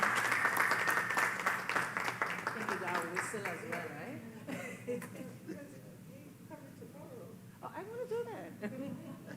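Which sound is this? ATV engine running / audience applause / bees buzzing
audience applause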